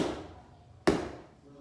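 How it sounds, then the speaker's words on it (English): An oat burger dough ball is knocked down by hand on a work surface, giving one soft, close thump that fades quickly in a quiet kitchen. "Take another, knock it down, roll it into a ball."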